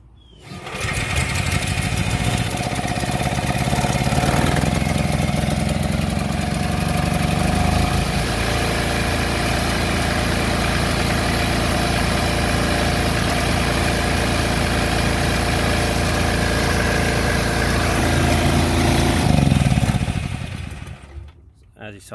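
An Onan 2.7AJ-1R RV generator engine cranks, catches and settles into a loud, steady idle that runs unbroken for about twenty seconds before cutting off, with no talking over it.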